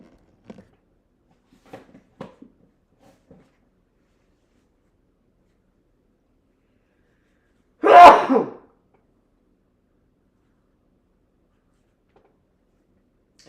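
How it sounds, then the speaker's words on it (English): A single sneeze bursts out loud and close in an otherwise quiet room, preceded by a few faint small rustles and ticks. "I am getting a cold, so I'm going to sneeze in a minute."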